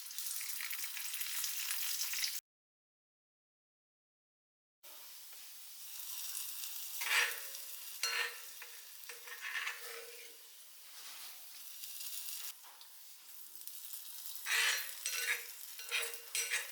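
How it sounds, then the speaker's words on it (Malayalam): Shallots sautéing in hot coconut oil for a Kerala fish curry meal, a steady sizzle that breaks off briefly, returns with occasional stirring scrapes and clinks of a spatula against the pan, close and moderately loud. "ഇനി നമുക്ക് വെളിച്ചെണ്ണ, അതിൽ ചെറിയ ഉള്ളി അത് വഴറ്റിയിടാം."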